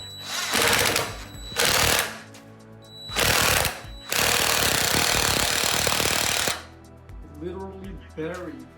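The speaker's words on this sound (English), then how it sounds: "This is a large screw and I did not pre-drill, so hopefully you can hear the rotary action." A DeWALT impact driver drives a large screw into wood without a pilot hole, giving several loud, close bursts of rapid hammering, the last one long and sustained, with a voice speaking briefly afterward.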